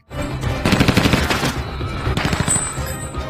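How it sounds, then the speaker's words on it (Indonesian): Rapid bursts of automatic gunfire ring out loudly and continuously, with a short pause before another volley. "mendengar suara tembakan itu"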